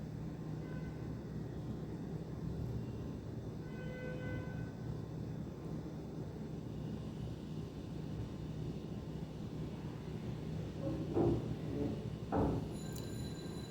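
Haramain high-speed train starting to move: a steady low rumble and hum of the carriage runs throughout at moderate level, with a couple of brief louder clunks near the end and no talk.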